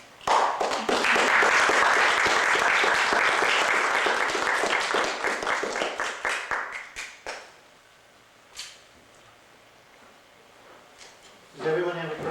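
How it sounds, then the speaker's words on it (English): Audience clapping hands at an introduction, a loud dense burst of applause lasting several seconds, then tapering to scattered claps and quiet, with a voice speaking briefly at the end. "Clap your hands."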